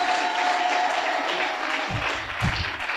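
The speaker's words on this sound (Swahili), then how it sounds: "Pigeni basi makofi." A church congregation claps steadily for a family giving thanks at the altar, a dense, close burst of applause that carries through the whole moment, with a few heavier thumps toward the end.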